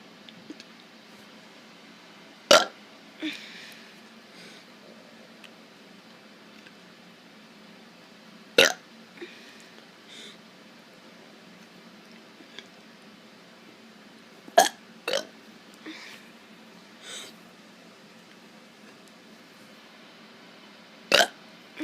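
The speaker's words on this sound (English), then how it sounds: "I'm going to be doing some burps." A kid lets out a series of short, isolated burps, spaced several seconds apart over quiet background hiss, some sharper and louder than others.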